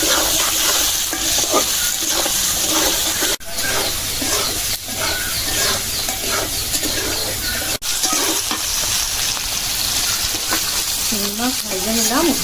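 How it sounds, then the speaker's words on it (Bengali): Shrimp fry in hot oil with salt, turmeric and chili powder, a steady close sizzle broken by the scrape and clatter of stirring, with a voice briefly heard near the end. "চিংড়ি মাছ ভেজে নিলাম"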